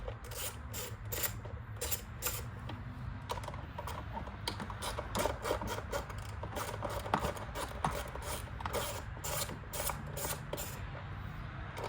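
A wrench works loose the fuel injector bolts on a 2012 Chrysler Town & Country, giving dense, rapid metallic clicks and ticks close by. The clicking runs steadily throughout, with no talking.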